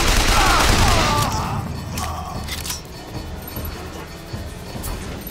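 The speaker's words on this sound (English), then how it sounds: "I want to get kills with the machine gun." Automatic gunfire from a machine gun in the first-person shooter BioShock Infinite, a dense burst loudest at the start and then tapering into scattered shots and clatter over a steady game-noise bed.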